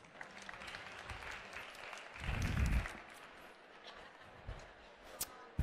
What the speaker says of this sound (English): if everyone could please give him a round of applause